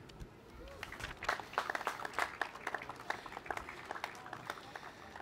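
An audience claps at an Olympic torch relay ceremony in Zagorje, a steady round of applause with scattered sharper claps that swells in the middle and then eases off.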